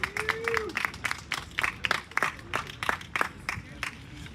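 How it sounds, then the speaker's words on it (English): Scattered clapping from a summit audience, individual hand claps standing out in an uneven rhythm, moderately near, with a brief voice at the start and faint crowd noise underneath. "So give yourselves a round of applause and thank you guys for being here today."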